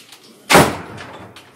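An apartment entrance door shuts with a single loud, close thud, then a brief fading rattle in a quiet room.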